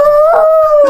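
A Shiba Inu dog lets out a single loud, close howl lasting about a second, holding a steady pitch before it trails off.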